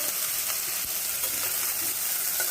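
Chopped tomato stirring and frying in a hot pan while cooking a Bengali yardlong bean and potato curry, a steady dense sizzle with faint scraping stirs throughout, no voices.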